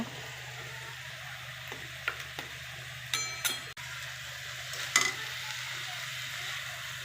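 Potato curry (aloo dum) frying in a pan with steady, close sizzling, interrupted by a few scraping stirs and light clinks as spices are added.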